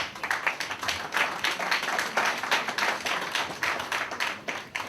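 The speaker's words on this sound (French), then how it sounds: "que je vous demande d'applaudir." An audience at a public security conference in a hotel claps for the day's speaker, a dense, steady patter of hand claps that fills the whole stretch with no talking.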